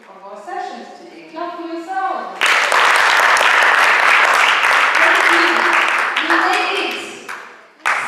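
Children at a county assembly session in Nairobi breaking into loud, dense applause for themselves after a voice speaks, the clapping holding steady for several seconds before tapering off.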